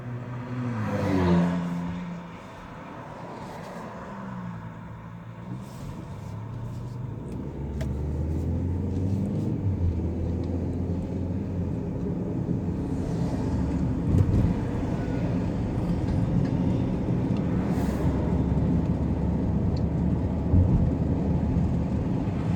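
A car cruising through a neighborhood, its steady engine and road rumble droning continuously and fairly close, swelling slightly in places, with no one talking.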